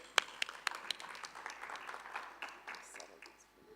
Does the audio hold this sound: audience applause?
yes